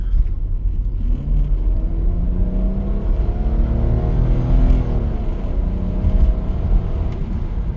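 A Ford Fairlane engine idles steadily after repairs, a low continuous rumble with a faint whirring hum that stays even and close throughout, with no speech.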